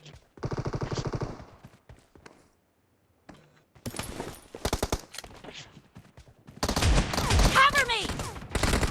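Shotgun blasts in a video game come in bursts separated by near silence, the last stretch dense with overlapping shots and louder clattering effects.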